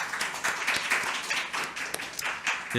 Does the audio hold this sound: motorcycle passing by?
no